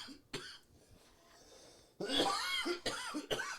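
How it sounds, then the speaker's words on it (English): A man coughing close up, a burst of several harsh, raspy coughs after a quieter stretch with faint background noise from a fan. "My boy ain't coughed like that since back in the day."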